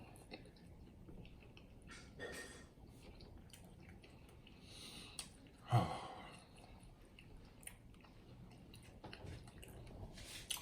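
Close, wet chewing of Chinese-style chicken wings in sweet garlic sauce during a mukbang, soft and steady throughout, with one sharper bite or squish near the middle and no talking.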